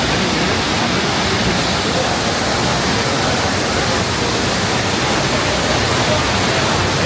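Waterfall on Lombok island, Indonesia: a steady, loud broadband roar of falling water, continuous and unbroken throughout, with no voices over it.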